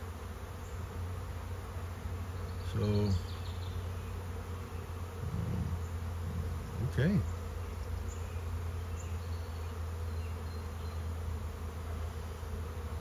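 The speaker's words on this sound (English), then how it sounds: "First time I ever caught the bees moving into the hive." A swarm of honeybees flying around and moving into a hive, a steady close insect hum throughout, with someone speaking briefly a couple of times over it.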